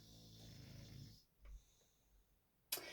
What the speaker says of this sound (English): you can hear my dog snoring